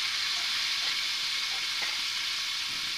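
Fish frying in a hot pan for a simple fish curry, a loud steady sizzle and hiss with faint stirring taps, close and continuous.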